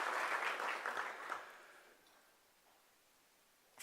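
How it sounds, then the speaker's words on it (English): A brief burst of clapping from a crowd at Menifee's 2016 State of the City Address, fairly lively at first, then quickly thinning out and fading into quiet room tone. "Let's give them a round of applause"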